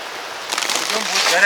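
Steady hiss of heavy rain pouring down during a thunderstorm in the mountains at Chichkan, Kyrgyzstan, with muffled voices partly audible beneath the downpour.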